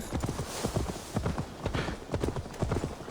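Horse hooves clip-clop in a steady rhythm in Assassin's Creed Valhalla, a horse being led to Magni, close and continuous over game ambience.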